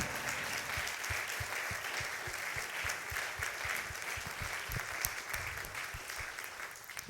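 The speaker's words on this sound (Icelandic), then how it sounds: "þið megið gefa henni gott klapp." An audience claps steadily and enthusiastically after a performance, a dense, sustained round of applause from a crowd in a room.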